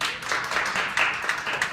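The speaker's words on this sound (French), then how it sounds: "Donc, également une bonne main d'applaudissements." Applause from a live evening audience, a short burst of steady, dense clapping from a crowd, fairly close and continuous.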